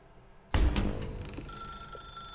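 A telephone in The Stanley Parable: Ultra Deluxe starts ringing abruptly after a quiet room tone, with a loud bright jangle that fades into a sustained ringing tone.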